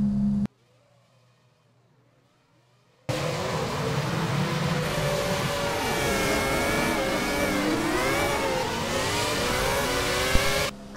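Formula V8 race cars at a race start in Brazil: after a brief near-silent pause, a loud mass of engines roars up together, their overlapping pitches sweeping and wavering as the pack accelerates away.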